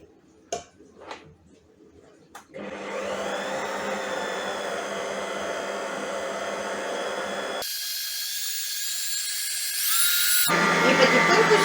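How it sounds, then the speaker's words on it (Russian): Eggs being beaten with an electric mixer for Easter kulich dough, a double batch. A steady motor whine starts after a few light knocks, stops briefly, then returns louder and higher, with no voices. "Очень хорошо взбиваем яйца."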